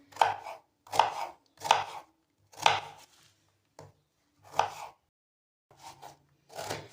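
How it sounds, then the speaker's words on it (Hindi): A knife chops fresh guava on a cutting board for a fruit chaat, giving about eight crisp, close chops in an uneven rhythm with short pauses between them. "मैं यहाँ पे अमरूद काट रही थी"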